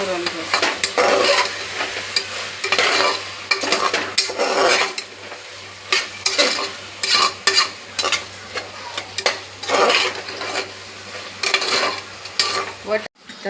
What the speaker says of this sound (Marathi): हे बघा कसा मस्त असा वाटाणा, कांदा, टमॅटो, गाजर, आलं लसणाची पेस्ट मस्त अशी फ्राय झालेली